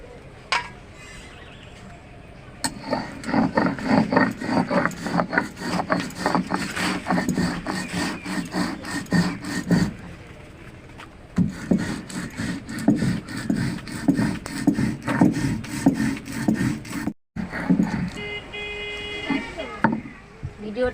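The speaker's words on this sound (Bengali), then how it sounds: "এবার আমি পোস্তটা বেটে নেব।" Poppy seeds are ground into paste by hand in village style, giving steady rhythmic scraping and rubbing strokes that run close and fairly loud with brief pauses.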